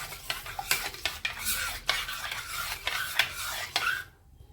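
A spoon stirs a spice mixture of turmeric, red chilli powder and rock salt in a pot, making close, rhythmic scraping and rasping strokes that stop abruptly near the end.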